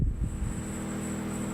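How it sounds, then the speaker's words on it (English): Machinery at a car wash gives a constant windy hiss and whir with a thin high whine. It is steady and fairly close, with a brief louder burst at the start and no talking. "We're at the car wash,"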